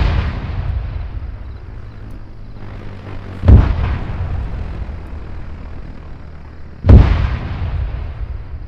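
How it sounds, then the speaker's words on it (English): Artillery fire in the Arma 3 video game: two heavy booming blasts a few seconds apart over a low, steady rumbling engine drone, with no talk. "I called in artillery near the location, but they've moved from it."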